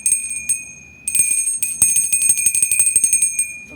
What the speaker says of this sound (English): I'm ringing this bell